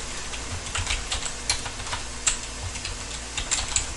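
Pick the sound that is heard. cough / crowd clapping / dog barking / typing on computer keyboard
typing on computer keyboard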